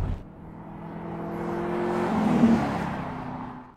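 A car in an action film drives toward the US-Mexico border, its engine a steady close whir that swells and then fades away, with no voices.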